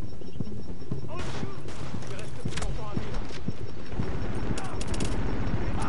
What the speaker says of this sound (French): Ah, c'est des grenades incendiaires.